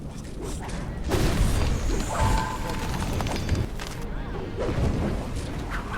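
An orb of fire spell bursts in Baldur's Gate, with a sudden loud whoosh and rumbling blast followed by a sustained crackling roar and further impacts amid battle noise.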